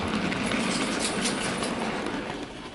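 A model train rumbles steadily along its track, a continuous clattering whir with no voices.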